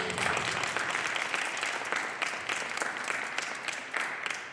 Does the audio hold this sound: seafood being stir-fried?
no